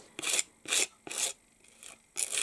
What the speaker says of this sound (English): we can just scrape this through the openings in the stencil